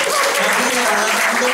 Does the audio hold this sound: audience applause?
yes